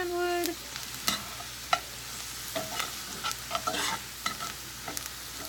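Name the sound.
food being stirred and fried in a skillet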